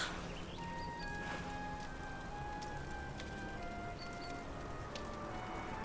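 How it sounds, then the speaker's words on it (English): Steady rain falling in the video game Dragon Quest XI, a dense continuous hiss of drops on surfaces, soft and even throughout, with faint high tonal game sounds threaded through it. "Looks like the rain's dying down."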